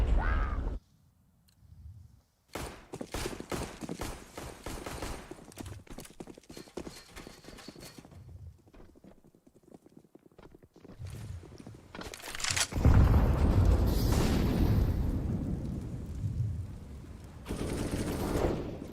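Pistol gunfire from Counter-Strike on the Nuke map during a FURIA versus Team Liquid match, bursts of sharp shots and clattering action broken by quiet gaps, with a louder stretch toward the end.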